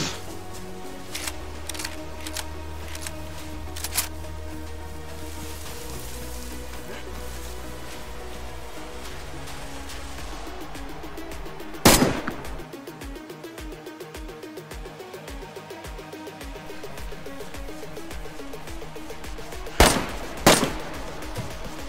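Gunfire in DayZ on PS4: distant rifle shots cracking intermittently over a steady game ambience, with sharp loud reports near twelve seconds and again around twenty seconds.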